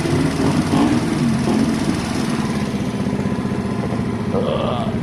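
Sinnis Harrier 125 motorcycle engine idling after an exhaust clean and carburettor adjustment, a steady buzzy single-cylinder putter with revs failing to rise, close and loud throughout.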